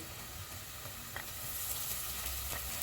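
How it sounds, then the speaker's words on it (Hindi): Ginger garlic paste frying in oil with golden fried onions for a chicken tikka boti handi makes a continuous, moderately quiet sizzle that swells slightly halfway through, with a couple of faint stirring clicks. "प्याज फ्राई हो गए, इसमें अदरक और लहसुन का पेस्ट डालेंगे।"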